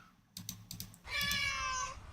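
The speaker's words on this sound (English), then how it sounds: "Of course it was a recorded cat." A recorded cat meows in one long, clear, drawn-out cry, following a burst of quiet computer-keyboard typing clicks, all fairly faint and roomy.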